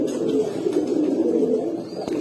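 A pair of pigeons gives a steady, close murmur of overlapping low coos for a couple of seconds, unbroken and even in loudness.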